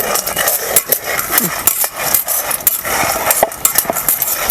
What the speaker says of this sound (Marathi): आता इकडे चुलीवरती आहे ना आपण आता शेंगदाणे भाजायला ठेवलेले आहे